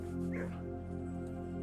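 A dog in the kennel room of the video game Blue Prince gives soft yips and whimpering bow-wows, quiet against a steady droning game music bed.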